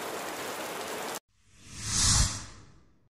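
A rain sound effect in an animated martial-arts fantasy series: a steady hiss of rainfall cuts off abruptly, then a soft whooshing swell rises and fades.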